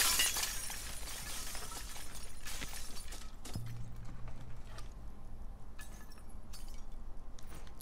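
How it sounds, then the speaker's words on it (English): A glass window smashed with a brick in the video game The Last of Us Part II bursts loudly at the start, followed by scattered falling shards and a few later sharp clinks. "Let me just reach through this broken glass."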